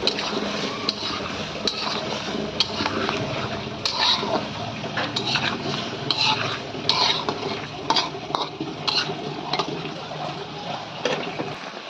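Eggplant is sautéed with cumin and coriander spices for a fish curry, a spoon scraping and clinking repeatedly against the pan over a steady sizzle, up close with no talk.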